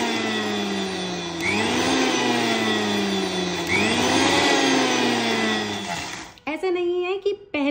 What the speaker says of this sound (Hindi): अब इसमें मैं ऐड करूँगी छोटे से क्यूब्स, 5-6 के करीब, और फिर पल्स पे ही ब्लेंड करूँगी।